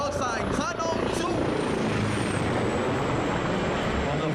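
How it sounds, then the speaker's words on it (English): An AW139 maritime operations helicopter of the Royal Malaysian Navy sweeps past at low level and high speed during an air show, its loud, steady rotor and turbine roar filling the air, with a brief voice at the start. "coming in from the breakwater on your right-hand side, at low level and high speed, is the AW139 Maritime Operations Helicopter"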